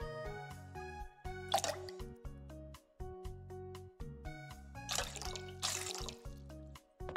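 Water poured in the Bakery Simulator video game, a repeated dripping, squishy liquid trickle in short bursts over plinking musical tones, fairly quiet.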